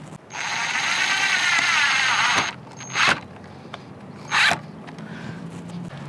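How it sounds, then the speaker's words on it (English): A self-tapping screw is driven into a carbon lip on a 2015-2021 Subaru WRX/STI, with a sustained loud buzzing drill run, then two short bursts. "come over and install a self-tapper on this side"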